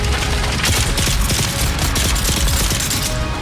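Rapid gunfire from the video game Dune Awakening, a dense burst of repeated shots crackling loudly and steadily over a busy in-game soundscape, with no talk on top.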